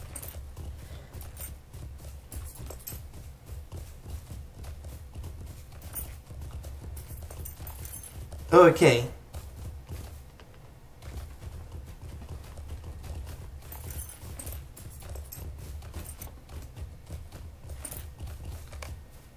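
Horse hooves clip-clop steadily in the video game LOTRO, a continuous trotting rhythm that runs throughout, with a brief louder burst and a single short spoken word partway through.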